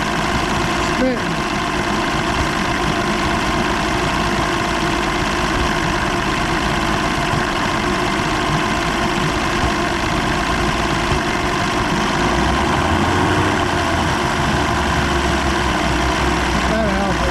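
A 150hp Evinrude outboard motor idles roughly and spits, its loud, continuous close-up rumble running throughout with a slight rise in pitch near the end.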